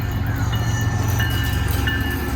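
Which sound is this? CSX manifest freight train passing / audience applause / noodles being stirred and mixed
CSX manifest freight train passing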